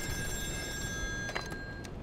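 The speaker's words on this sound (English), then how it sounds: "Oh, the phone's gonna ring now." A telephone ringing inside the video game Still Wakes The Deep, set on an offshore rig, a faint bell-like ring under a steady ambient hum with a few brief clicks.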